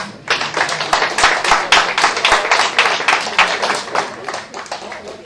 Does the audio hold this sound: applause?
yes